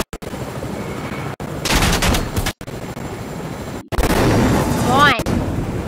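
Gunfire in the video game Fortnite, loud bursts of shots in chunks separated by abrupt cutouts, with heavy noisy stretches and a rising whistle near the end.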